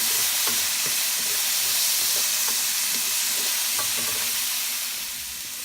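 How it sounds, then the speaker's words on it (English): Fish steak with onion and garlic sizzles steadily in a hot pan, with occasional scrapes and taps from stirring heard over the constant frying hiss. "And then give it a stir."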